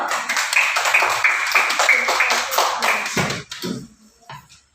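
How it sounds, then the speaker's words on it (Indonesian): A group of children claps hands in rapid, uneven bursts for about three seconds, then a few scattered claps fade out. "Iya, tepuk tangan dulu."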